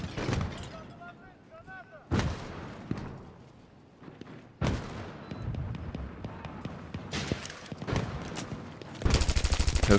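Rapid gunfire and heavy explosive blasts from a Battlefield 3 match, bursting in loud clusters with quieter gaps between volleys and a dense crackling burst at the end.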